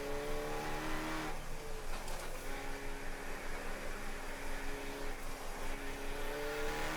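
Race cars running together at Summit Point track during a Labor Day event, a steady droning engine note with rising and falling tones as cars pass through the chute and around turn 5 into the carousel, heard continuously without talk.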